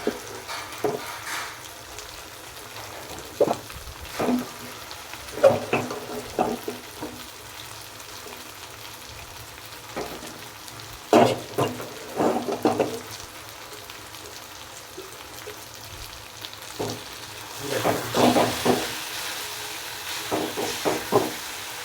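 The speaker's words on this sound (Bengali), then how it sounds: "এখন আমি নুডলসগুলো মিক্স করে নেব।" Instant noodles being stir-fried with vegetables in a pan, heard as light intermittent scraping and tossing with a soft sizzle, steady through the whole stretch with a few louder stirring bursts, no talking.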